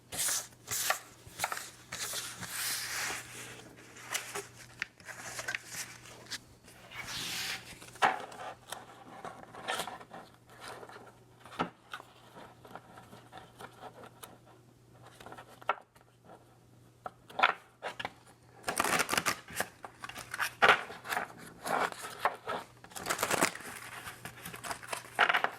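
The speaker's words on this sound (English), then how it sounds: "Let me actually shuffle them." A deck of cards is shuffled by hand in repeated bursts of crisp riffling and sliding, with pauses in between, close and fairly quiet over a faint steady hum.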